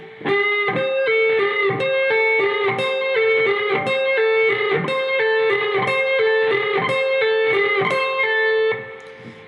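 Distorted electric guitar plays the solo lick slowly, repeating the phrase eight times in a clear, loud rhythmic run of picked notes before fading out at the end.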